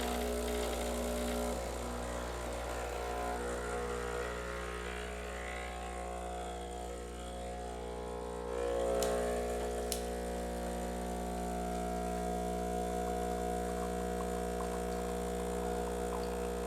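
An espresso machine brews a shot for a café latte, giving off a continuous, steady electric pump hum and drone with a slight rise partway through. A couple of brief clicks come near the middle.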